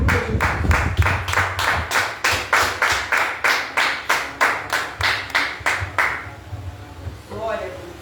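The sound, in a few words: congregation applauding in church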